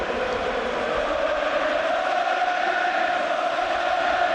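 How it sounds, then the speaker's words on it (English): Vast Wembley stadium crowd at the 1998 FA Cup final applauding Newcastle United, a steady, dense wash of clapping and crowd roar that holds evenly throughout with no pauses, distant and enveloping, with no voices standing out. "they are applauding Newcastle."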